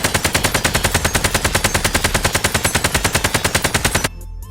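AK-47 fire in the video game Warzone: a loud, rapid, evenly spaced burst of automatic shots lasting about four seconds, then an abrupt stop into quiet.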